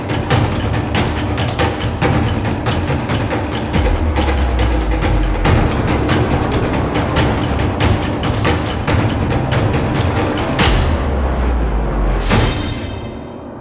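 Dense, loud percussive taiko drum music from a Taiko Creator sample library, a relentless stream of booming hits with strong low end that keeps going nearly throughout, then drops away briefly near the end before a final sharp swell.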